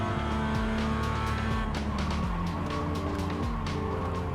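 Race car at Virginia International Raceway in iRacing accelerating hard, engine revving up through the gears in rising sweeps with brief shift drops, loud and close, with some tire noise.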